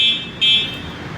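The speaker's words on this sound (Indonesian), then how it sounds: "Ini klakson." An electronic horn on a Selis Mandalika electric bicycle beeps twice in close succession, a steady high-pitched tone, loud and close with no voices.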